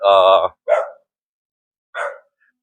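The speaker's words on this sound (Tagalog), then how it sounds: "may aso" A dog barks close by at a housing site in the Philippines: one loud, full bark, then two shorter, rougher barks separated by brief silence.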